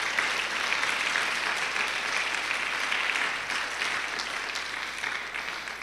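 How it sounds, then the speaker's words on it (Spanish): A congregation at a church service applauds loudly and steadily, a dense continuous wash of clapping that holds for several seconds and eases slightly toward the end. "Dele un fuerte aplauso al Rey de Reyes y Señor de Señores."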